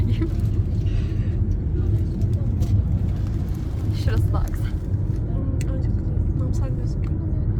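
Inside a taxi stuck in city traffic, a steady low engine and road rumble runs throughout, with people talking over it.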